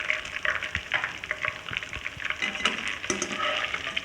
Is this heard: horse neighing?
no